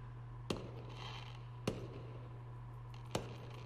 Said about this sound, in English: I resigned to my fate as I watched the night sky illuminated by the colorful explosions of fireworks